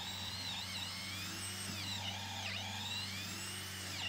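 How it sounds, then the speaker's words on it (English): A steady power drill whines continuously at close range, boring a hole for a carriage bolt in deck framing, its pitch wavering slightly, with a constant low motor hum underneath and no talking. "before drilling my first hole for the carriage bolt"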